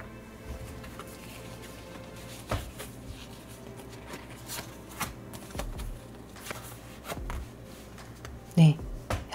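Tarot cards flipped over and laid open, a few soft papery flicks and taps spread across the clip with a sharper card snap near the end, faint against a quiet room.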